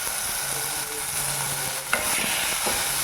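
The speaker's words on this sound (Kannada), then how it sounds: "ಸ್ವಲ್ಪ ಗೋಲ್ಡನ್ ಬ್ರೌನ್ ಬರೋ ತನಕ ಚೆನ್ನಾಗಿ ಫ್ರೈ ಮಾಡಿಕೊಂಡ್ರೆ ಚೆನ್ನಾಗಿರುತ್ತೆ ಚಟ್ನಿ" Tomato chutney sizzles and fries in a pan while a spoon stirs it, with soft scraping strokes over a steady close hiss and no talking.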